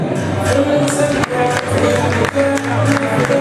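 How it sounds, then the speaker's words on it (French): Steady clapping from a crowd at a beauty pageant, sustained and fairly loud, with a dense patter of hands and a low musical hum underneath. "on les applaudit s'il vous plaît"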